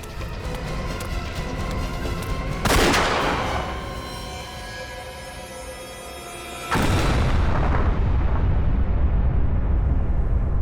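Two loud booming explosions in a TV crime drama, each with a sudden broadband blast and a long rumbling tail, the second heavier and sustained.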